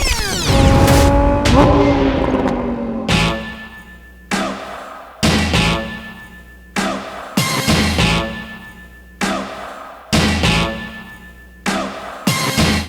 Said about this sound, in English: First one coming is the kind of spec king of the Lamborghini STO.